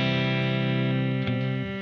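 Fesley FST400M electric guitar played through distortion, one thick sustained chord ringing loud and alone and fading slightly near the end.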